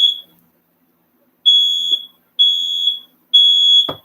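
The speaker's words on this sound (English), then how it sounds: "There goes the fire alarm." A smoke alarm set off by burning incense, sounding three loud, steady high-pitched beeps of about half a second each after an opening chirp, with short gaps between them.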